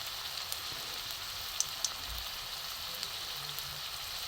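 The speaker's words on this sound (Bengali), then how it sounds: "আমি গ্যাসটা কমিয়েই ভাজবো, গ্যাস কমানোই আছে আমার।" Shrimp shell fritters fry in hot oil over a low gas flame, giving a soft, continuous sizzle and hiss with a few faint pops, close but quiet, with no talking.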